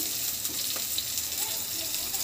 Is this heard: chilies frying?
yes